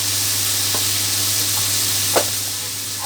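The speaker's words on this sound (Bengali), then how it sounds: "এবার ডালটাকে আমি জাস্ট একটু ভেজে নেবো যাতে ডালের যে গন্ধটা আছে কাঁচা সেটা যাতে না বেরায় সেজন্য।" Masoor lentils frying in a pan under a continuous sizzle, with a few scraping stirs of a spoon, one sharper clack near the end, and a low steady hum underneath.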